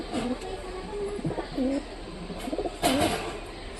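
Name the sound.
Giribaz pigeons cooing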